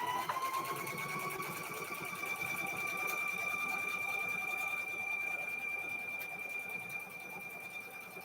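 Sewing machine stitching quilt strips for a cow quilt, a continuous close motor whir with a steady rapid needle patter and a rising whine, running without pause for several seconds.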